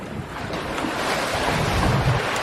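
Sailboat gliding gently across calm open Pacific water on a bluewater passage: a soft continuous wash of water along the hull mixed with light wind buffeting, steady and unbroken with no voices.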